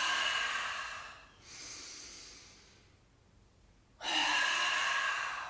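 Forceful breaths pushed out during a qigong breathing exercise for back pain come as three breathy rushes of air, close to the microphone, with a quieter fading breath and a short pause before the final strong one.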